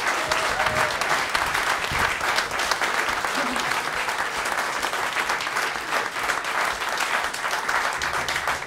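Sustained, dense applause from a concert audience at a live jazz and string quartet performance, steady and full throughout with no pauses.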